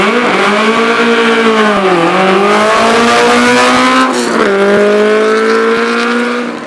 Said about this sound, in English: Now it's Grant Cratchley with the 1 litre Vixen Imp VB1.